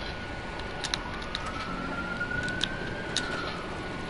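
Police car siren in a video game played on PS4, a steady wailing tone under scattered clicks and game noise, moderately distant.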